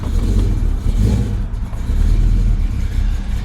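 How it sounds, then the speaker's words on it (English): A 1972 Chevrolet Malibu convertible's exhaust gives a deep, steady, loud low rumble at idle close by, with slight swells in level and no talk over it. "Got a nice mean aggressive rumble to the exhaust."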